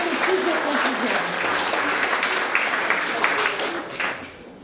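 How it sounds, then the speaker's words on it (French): Dense applause from a sizeable crowd at a tribute event, steady and loud throughout, tapering off slightly at the end. "vous pouvez applaudir, parce que effectivement, nous partageons tous votre enthousiasme."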